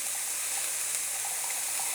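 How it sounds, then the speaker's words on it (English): Hot boiling water pours into a cooking pot in a steady, close gushing stream, an even splashing rush that holds without pause and with no voices over it. "I'm also gonna put some hot boiling water"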